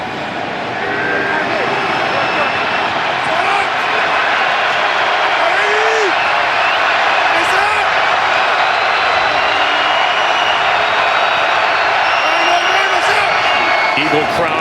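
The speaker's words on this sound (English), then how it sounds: "Eagle crowd here at FedEx making noise on 3rd down" Steady roar of Eagles fans at FedEx Field during an NFL football game between the Eagles and Redskins, a dense continuous crowd din rising on third down and holding loud throughout under a faint commentator-like voice.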